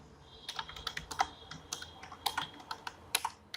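Python pandas DataFrame code is typed on a computer keyboard in close, crisp bursts of individual keystrokes with short pauses and a few louder taps, and no talking.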